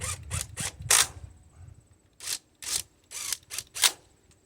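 Wrench ratcheting on cylinder head bolts of a 17 horsepower Briggs engine on a Murray mower, a series of short close clicking bursts in irregular clusters separated by brief quiet gaps.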